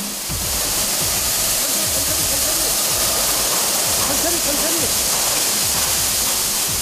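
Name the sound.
washing sand off vehicle tracks with water spray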